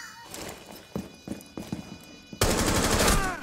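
Gunshots in the tactical shooter Rainbow Six Siege: a handful of separate sharp shots spaced irregularly, then a sudden loud, sustained burst of firing near the end.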